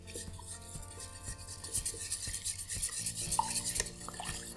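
Ingredients are stirred with maple syrup in a bowl, giving close, quick swishing and scraping strokes with light knocks of the utensil against the side, and no voices.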